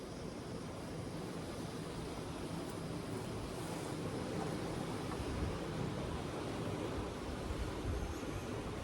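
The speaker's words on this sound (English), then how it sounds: "Wow, it's really windy." Continuous blustery wind roaring against the microphone in a sea cave on the Moray Firth, broad and rumbling with no pauses, no voices heard.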